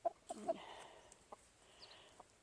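Chickens cluck in a farm pen, with a few short, close clucks at the start followed by scattered faint calls over a quiet background.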